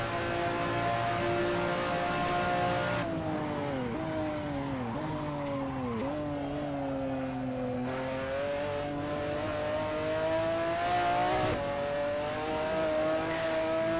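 A McLaren F1 GTR race car engine in the Assetto Corsa racing game screams loudly and steadily, revving through repeated gear changes with pitch dips and climbs, close and continuous with no talk.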